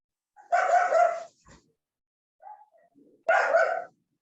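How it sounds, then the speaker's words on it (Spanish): Two sharp, loud dog barks sound close by indoors, one near the start and one near the end, with a few faint yips and small sounds between them in otherwise quiet surroundings. "Mis perros están ladrando, disculpe."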